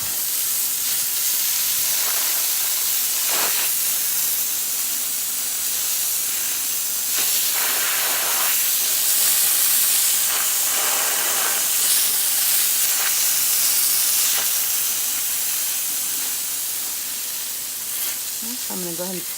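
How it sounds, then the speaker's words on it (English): Steady broadband hiss of a water hose spraying hard into a clogged deck drain to flush out dirt and debris, continuous for the whole stretch with slight surges and no talking. "So I'm going to go ahead and spray that down to move that dirt and debris"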